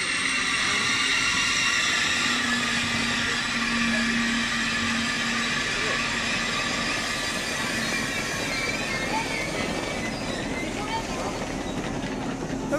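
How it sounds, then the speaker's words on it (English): A high-speed train arrives in Germany, rumbling steadily close by with a continuous rolling roar and rail noise, no talking over it. "Our train just arrived now"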